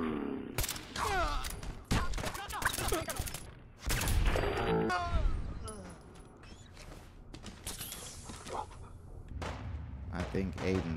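Gunfire in the video game Fallout 4 rattles in dense bursts and scattered shots, mixed with mechanical clanks and thuds, while voices talk over much of it.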